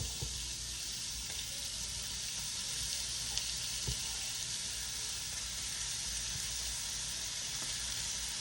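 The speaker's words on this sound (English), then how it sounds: "You hear that sizzle? That's what we want." Sausage browns in a hot pot with a steady, moderately quiet sizzle and crackle throughout, broken only by a few faint clicks, and nobody talks over it.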